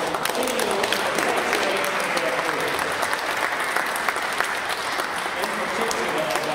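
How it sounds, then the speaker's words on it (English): A crowd at a Hackney Council event applauds a participant, with steady, dense clapping that stays loud and sustained throughout. "So let's give Elsa a round of applause"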